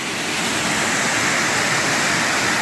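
Waterfall with thousands of gallons of water pouring over rocks in a mossy spot, heard up close as a loud, steady, broadband roar that never lets up.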